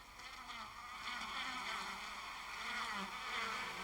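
Honey bees swarm over the wax comb inside their hive, a soft, continuous droning hum that swells slightly, with no voices.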